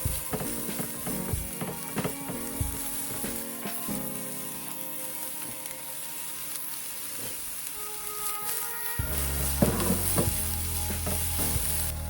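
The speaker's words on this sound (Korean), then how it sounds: "같은 팬에 양파와 마늘을 볶아줄게요." Onion and garlic frying in a pan, a continuous close sizzle broken by stirring and scraping, the hiss swelling louder and denser toward the end, no one speaking.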